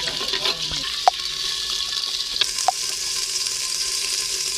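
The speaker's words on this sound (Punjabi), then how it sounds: "ਹੁਣ ਥੋੜਾ ਜਿਹਾ ਪਾਣੀ ਦਾ ਠੰਡਾ ਮਾਰ ਲਿਆ" Water pours into a hot pan of frying spices and ginger with a steady sizzling hiss and a few sharp clinks of utensils.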